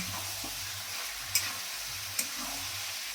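Dry chilli chicken stirred in a pan with no water added, a soft steady sizzle with faint scraping, a few sharp utensil clicks against the pan standing out, and no one talking.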